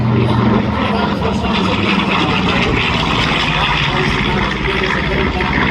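Droning radial propeller engines of a B-25 bomber at an airshow fill the air with a continuous, rough, loud roar and broadband rumble, with faint talk underneath.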